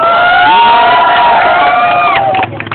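Loud crowd cheering and shouting at a Filipino rap battle, many voices whooping together close up, sustained and dense before easing off near the end.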